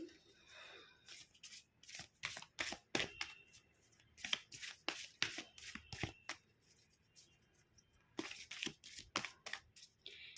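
Tarot cards being shuffled by hand in a series of crisp, rapid riffles and rustling bursts, close and fairly loud, with brief pauses between shuffles.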